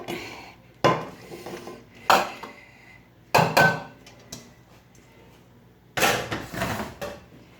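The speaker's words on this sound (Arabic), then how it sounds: "دابا هذه التصفويره الثانيه تبعوا معايا غنقلبوها بهذه الطريقه" A second batch of steamed vermicelli being flipped in a pot, giving loud metallic clanks and scrapes of utensils against the pot in a few separate bursts with short pauses between, close by, no voices.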